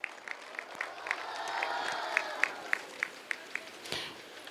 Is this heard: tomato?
no